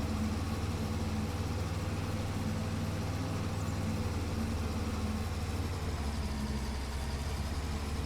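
An old harvester engine runs steadily at a low idle, a continuous deep rumble close by with no talking.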